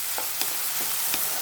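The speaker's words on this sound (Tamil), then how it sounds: "தக்காளி நல்லா மசிற அளவுக்கு வதக்கி விடணும்." Chopped tomato and onion sauté in a pan for dhaba-style dal tadka, a steady loud sizzle with a few soft stirring scrapes recurring at an even pace, no talk.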